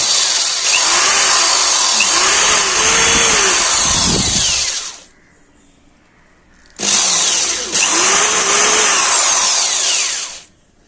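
A power drill bores holes into the plastic casing of an inverter bulb, whining loudly and close for about five seconds, falling silent, then running again for another three-second burst.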